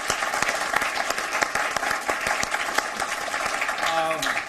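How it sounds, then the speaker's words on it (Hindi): Audience applauding in welcome as a poet is invited to the stage at a televised Hindi poetry contest, steady dense clapping throughout with a voice briefly heard near the end. "मैं चाहता हूं बस जोरदार तालियों से वेद को आमंत्रण दें"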